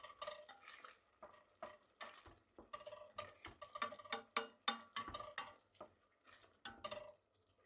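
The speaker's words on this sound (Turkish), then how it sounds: "Yine karıştırmaya devam ediyorum." A spoon stirs lentil soup in a cooking pot, making a series of soft clinks and scrapes in an uneven rhythm, some quick bursts and some spaced out, close but quiet, with no talking.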